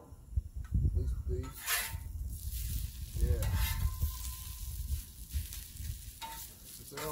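Hash browns sizzle on a Blackstone griddle in a steady frying hiss with occasional scraping, while a person talks over the cooking.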